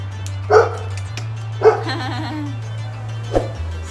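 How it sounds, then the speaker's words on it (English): Several dogs bark in short, separate bursts, a yip near the start, another a second later with a brief whine-like tail, and a third toward the end, fairly close over a steady low hum. "Oh, there's dogs."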